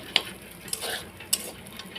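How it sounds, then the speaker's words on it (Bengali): Pasta frying in a pan, a steady soft sizzle with a few sharp scraping ticks of a utensil stirring, close and alone without talk. "ভালো করে ভেজে নিচ্ছি"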